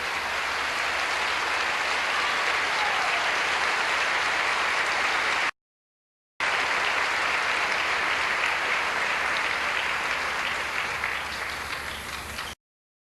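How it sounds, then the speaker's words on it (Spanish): Applause fills a church service, dense clapping from the congregation sustained in two long stretches split by a brief gap, loud and steady with no talk over it. "Aplauso al Señor."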